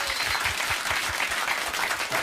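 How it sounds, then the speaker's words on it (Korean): Steady applause from a studio audience at a Korean political talk show, dense and sustained clapping at an even volume throughout, with no voices standing out. "박수 한번 보내주시기 바랍니다"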